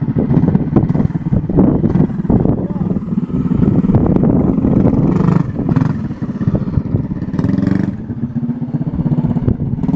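A minibike powered by a Harbor Freight engine runs steadily and loudly close by for the whole stretch, its rough low engine note rising and falling slightly with throttle, with some wind buffeting on the microphone.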